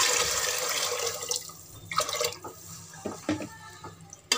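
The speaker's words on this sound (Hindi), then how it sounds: "4 कप पानी डालेंगे।" Water is poured into a pot of browned kidney beans for Punjabi rajma, a running splash followed by scattered drips and small clanks, close and moderately loud, with no talking.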